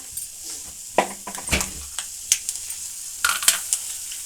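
Chana dal and curry leaves fry in hot oil for pulihora, giving a steady close hiss broken by sharp crackling pops and a few scraping stirs.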